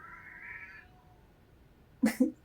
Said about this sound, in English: She's a cat.